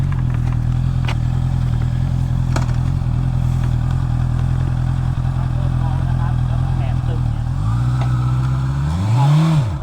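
A Honda big bike motorcycle on a riding training track, its engine droning loudly and steadily before revving up with a rising pitch near the end.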